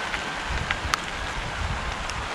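Heavy rain falls steadily beside the River Wye during roach fishing. A dense, continuous hiss of rain and wind noise blows across the microphone, with a few brief sharper taps. No voices are heard.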